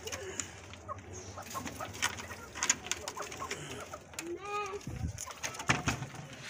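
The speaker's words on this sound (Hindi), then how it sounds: "ये कबूतरों को मैं छोड़ देता हूँ।" Pigeons let out of their cage in a backyard coop shared with hens and rabbits, giving soft cooing and fluttering amid clucking chickens and scattered birdsong, with a brief wing flap near the end.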